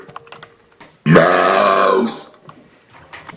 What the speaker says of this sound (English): And now, how about I burp some words?